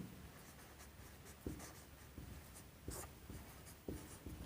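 A pen or pencil writes on paper during a chemistry lesson on Mendeleev's periodic table. Faint, soft scratching comes in short strokes with a few firmer taps, and nobody speaks.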